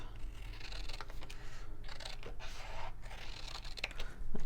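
Scissors snip through cardstock while cutting out a chapstick holder, a few short crisp cuts close by over a steady low hum.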